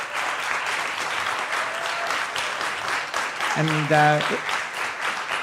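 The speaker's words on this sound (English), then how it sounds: "So let's give a big hand of applause for Nilüfer." An audience at an ecosocialism talk applauds steadily at close range, a dense wash of clapping that holds for several seconds while a speaker's voice comes through briefly underneath.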